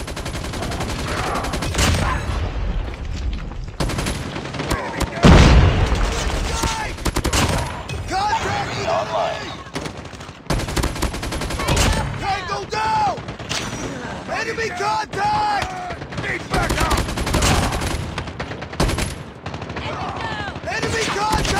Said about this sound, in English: Sentry gun deployed. Target's in sight!